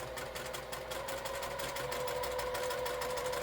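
A sewing machine stitches a quilting seam with diagonal seam tape, making a steady, even whirring hum throughout, close and alone.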